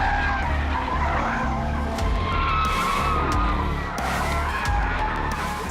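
A Mercedes E63S switched into rear-wheel drive skids with loud, sustained tire squeal over a roaring engine, continuous and close throughout with no voices.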